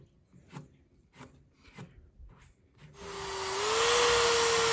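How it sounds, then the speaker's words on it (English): Rhythmic scraping strokes on axis deer hide fur, followed by a drill spinning up with a wire wheel and whining steadily on the fur, loud and close, no talking. "I got a wire wheel on a drill, and this attacks the fiber in the fur that holds it all stiff together."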